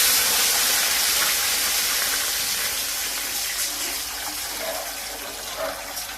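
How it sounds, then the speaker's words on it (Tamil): Five cups of water poured into a cooking pot while making kesari, a steady close splashing rush that slowly fades a little over the pour, with no talking. "இப்ப நம்ம அடுத்து 5 கப் தண்ணி எடுத்து ஊத்திக்கலாம்."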